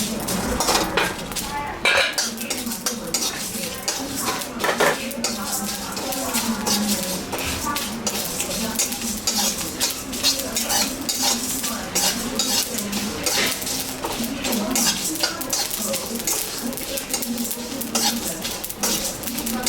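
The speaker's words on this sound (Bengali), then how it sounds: "মাছ ভাজার আগে আমি একটু ভাজা মশলাটা ভাজে নেব।" Dried chillies, coriander seeds and cumin dry-roast in a pan, stirred constantly with a metal spatula, so the scraping and clinking against the pan come in a busy rhythm over a faint sizzle, with a voice talking now and then.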